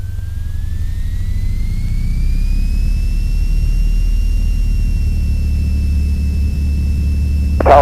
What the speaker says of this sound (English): get the nose nice and straight, power smoothly up to full